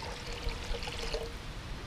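Water pours steadily from a can into a Dutch oven nearby, a continuous splashing gurgle with a few small clinks.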